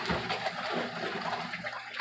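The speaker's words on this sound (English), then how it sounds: "We will be rinsing there for a couple of minutes" Water churns and sloshes inside a Kuppet portable washing machine as it rinses clothes. The swishing is steady and close, with no voices over it.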